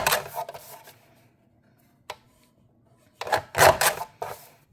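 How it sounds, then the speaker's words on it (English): Short paper-trimming strokes from a Tim Holtz decal edge trimmer come in a few quick bursts with a gap between them, each one close, scraping and crisp. "I'm going to get my Tim Holtz decal edge trimmer and just cut this down a little tiny bit"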